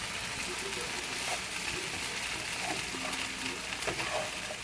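Potatoes frying in a pan make a steady, fairly quiet sizzle and crackle with a few faint clinks, continuous throughout.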